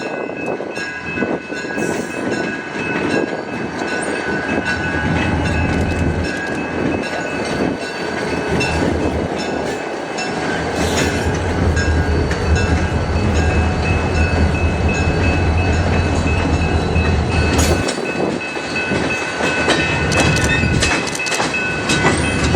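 Sealy Local freight train rolling along a four-track Texas main line near Rosenberg, with a loud continuous rumble, rail clatter and squeal close by, and horn blasts near the end.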